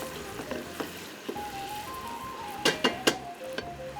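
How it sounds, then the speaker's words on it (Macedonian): Onions sizzle steadily in a pan as cauliflower stew is cooked, with a few sharp clatters of stirring near the end and no talking. "Додека се пржи кромидот."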